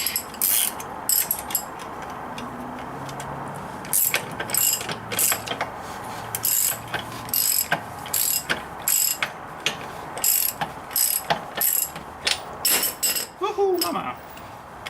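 Rapid bursts of a ratchet wrench clicking near and loud while working on an indoor tractor being changed over to mower mode, the short ratcheting runs repeating with brief pauses and a voice speaking briefly near the end.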